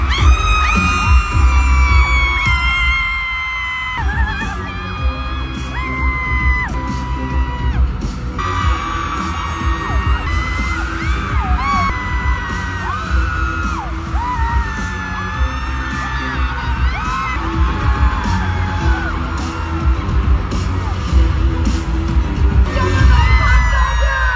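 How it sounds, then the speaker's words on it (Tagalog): At a Smart Araneta fan event in Manila, a large indoor crowd screams and cheers continuously and loudly as actor Park Seo-joon enters, with high-pitched shrieks, yells and bangs layered over the sustained roar. "At ito na nga ang hiyaw nung papasok na siya."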